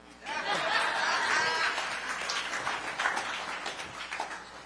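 Audience in a South Central community gathering bursts into applause and some laughter, dense clapping that swells quickly and then slowly thins out, moderately close.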